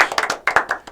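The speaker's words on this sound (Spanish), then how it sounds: "Un aplauso." A studio audience on a Spanish-language talk show claps briefly, a quick run of crisp, close hand claps in an uneven rhythm lasting about a second.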